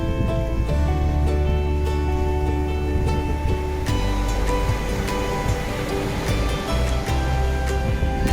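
Ocean surf rolls and washes continuously onto a shore where harbor seals are being released, a dense, steady roar of water with no voices.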